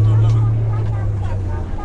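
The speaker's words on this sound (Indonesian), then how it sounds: "Nggak ada knalpot suara mesinnya." A bus engine with its exhaust muffler missing gives a loud, steady rumble with a harsh low drone throughout, close by, with faint voices in the background.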